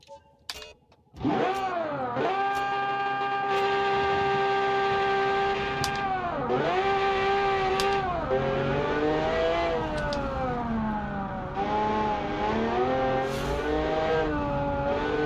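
A car engine revs hard up the Goodwood hillclimb in the BeamNG game. After a quick start it climbs and drops through gear changes with a loud, steady howl from close by, and there is no talking.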